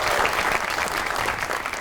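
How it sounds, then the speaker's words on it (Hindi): A studio audience on a comedy talk show claps steadily in warm, even applause welcoming a guest, dense and sustained throughout. "तो आपकी बहुत सी तालियों में प्लीज वेलकम नूरुल हसन"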